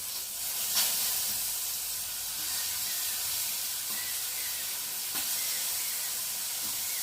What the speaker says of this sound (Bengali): আর এখন আমি আলুগুলো দেখো আমি গোল গোল করে ভাজবো।